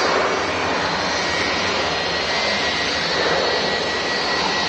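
A jet aircraft at Manchester Airport produces a broad, steady roar that holds constant, loud and without pause, with no talk over it.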